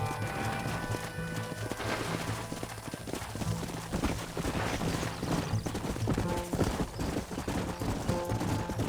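A horse gallops in the Red Dead Redemption video game, with fast rhythmic hoofbeats running steadily throughout, close and loud, and occasional whinnies over a dense game soundscape.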